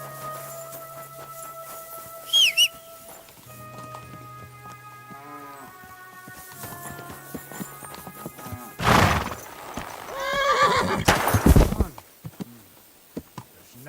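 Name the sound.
horse neighing and hooves in video game Kingdom Come Deliverance 2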